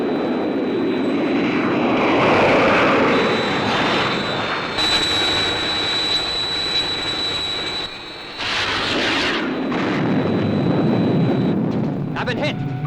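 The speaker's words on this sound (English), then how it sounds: "I'm under attack from 3 unidentified aircraft and taking evasive action" Aircraft roar past in an attack on the Thunderbird 1 craft, a loud sustained jet-engine rush with swelling passes and a sharp whooshing burst near the end, voices talking over it.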